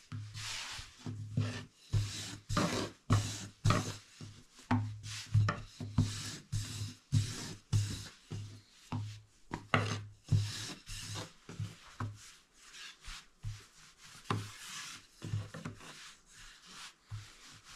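Rested dough being rolled out slowly by hand pressure, giving a steady run of soft rubbing, rasping strokes in an even rhythm, close and fairly quiet, with no talk.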